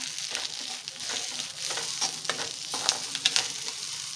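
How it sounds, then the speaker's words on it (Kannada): Poppy seeds and spices fry in a pan for mutton curry, a close, steady sizzle with stirring scrapes and a few sharp metallic clinks near the end. "ಎಲ್ಲ ಮಿಕ್ಸ್ ಮಾಡಿಕೊಂಡು ಫ್ರೈ ಮಾಡ್ಕೊಳ್ಳೋಣ"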